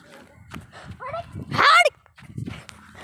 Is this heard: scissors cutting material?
no